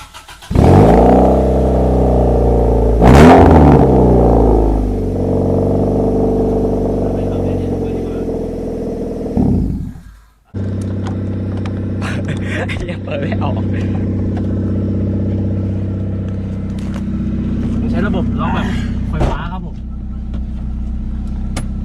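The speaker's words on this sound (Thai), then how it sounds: "ฟังเสียงท่อหน่อยกว่า" A Honda Civic 3-door in grey revs its engine through the exhaust, loud and close, with rising and falling harmonic sweeps, a sharp blip near three seconds, a brief cut, then a steadier idle with smaller revs; voices talk faintly underneath.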